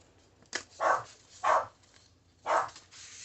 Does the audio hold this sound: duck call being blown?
no